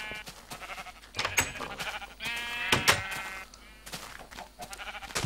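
Sheep bleating repeatedly in Minecraft, a series of short nasal bleats close by, some overlapping, loud against a quiet game background without speech.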